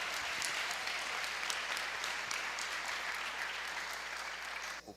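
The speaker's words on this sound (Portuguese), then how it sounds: "Pode aplaudir a Jesus." A church congregation claps steadily, with dense, sustained applause filling the whole stretch before it drops away at the very end.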